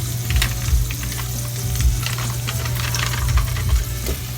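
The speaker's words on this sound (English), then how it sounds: "Okay, we're going to use some butter. This is real butter, not margarine." About a stick and a half of real butter, not margarine, melts and sizzles in a hot pan: a close, continuous crackling fizz with light stirring clicks over a low hum.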